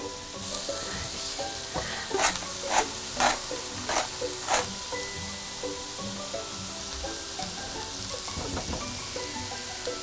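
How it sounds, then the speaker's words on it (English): Mixed vegetables sizzle steadily in olive oil in a pan for a fish pie filling, with a few louder crackling bursts as they are stirred, close and fairly quiet. "we just put a bit of olive oil to fry all the veggies"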